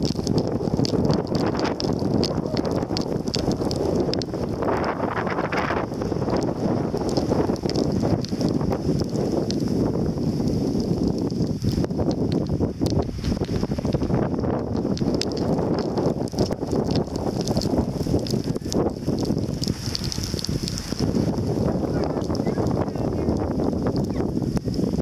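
Strong wind roars steadily among trees near Seattle, buffeting the microphone with low rumbling gusts and a constant rushing hiss.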